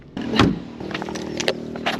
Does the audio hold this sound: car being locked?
yes